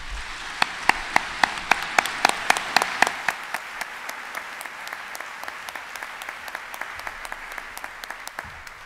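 Audience applauding a church gathering as Reverend Martin Junge is welcomed, clapping that starts with sharp distinct claps and settles into a steady, moderately sized round of applause.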